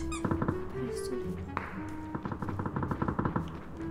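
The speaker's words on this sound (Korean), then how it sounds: "발소리." Footsteps sound in a battle-royale-style shooter video game as a run of quick, rhythmic taps and thuds, sparse at first, then a steady patter. A voice is briefly heard over them.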